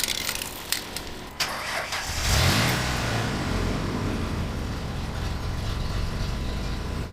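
A Ford Explorer engine cranks and catches after a jump start, then settles into a loud, uneven, rough-running idle that drones on close by with no talking.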